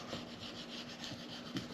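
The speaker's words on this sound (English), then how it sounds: "I just use this little plastic scraper. It helps get some of the adhesive off." A small plastic scraper rubs and scrapes adhesive off a glass cutting board, a faint, continuous close-up rasping with slight repeated strokes.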